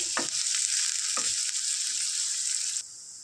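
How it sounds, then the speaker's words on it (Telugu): Onions and green chillies sizzle steadily in a pan with a bright, continuous hiss and a couple of stirring scrapes, the frying noise dropping suddenly near the end. "వీటిని చక్కగా ఫ్రై చేసుకుందాం ఫ్రెండ్స్ ఆనియన్స్ ఉన్న మిర్చి"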